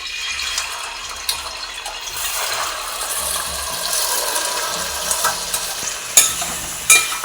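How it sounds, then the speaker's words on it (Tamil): Washed ada rice flakes fry in melted ghee as they are stirred, making a close, steady sizzle broken by scraping, clattering strokes of a spoon against the pan that grow more prominent toward the end. "இந்த அடை இதை சேர்த்து நல்லா வதக்கிக்கிறோம்"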